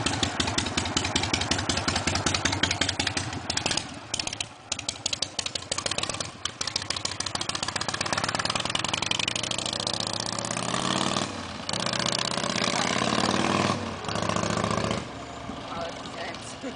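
Shovelhead motorcycle with no brakes running close by, a loud continuous rumbling, pulsing engine that surges and eases throughout, with people talking over it.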